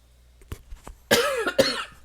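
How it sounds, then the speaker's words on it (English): A woman coughing while working on a costume, a couple of sharp bursts of coughing after small throat sounds, close and loud. "Excuse me, I had to cough."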